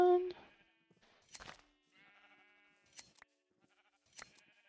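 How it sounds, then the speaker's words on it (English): Sheep in a video game bleat several times, loud and close, with short wavering calls spaced across the span. "Oh look, they're sheep."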